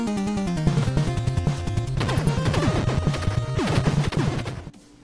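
A chaotic burst of retro video game audio from Contra 2 plays: dense, clashing electronic tones and crashing hits, busy and loud throughout before cutting off abruptly at the end.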